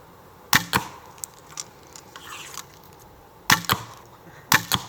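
Arrows shot from a bow through a sheet of paper for tuning: three sharp paired impacts, each a crisp snap followed closely by a second papery thwack, spaced apart with quiet rustling between, close and loud.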